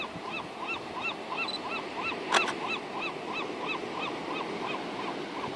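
A gull calling over and over, a regular rhythmic series of about a dozen loud, honking cries close by, with no other sounds competing.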